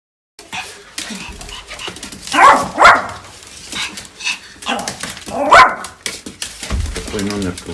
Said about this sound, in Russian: Ты моя хорошая, красивущая собака.